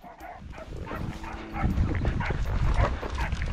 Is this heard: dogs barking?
yes